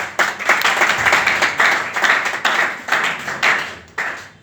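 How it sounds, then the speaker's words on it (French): A crowd at a political campaign launch claps for guests in brisk, uneven waves, with individual sharp claps standing out from the dense applause and surging in repeated bursts. "qu'on va applaudir très très fort pour eux"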